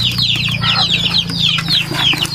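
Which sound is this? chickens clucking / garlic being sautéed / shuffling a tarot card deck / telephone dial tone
chickens clucking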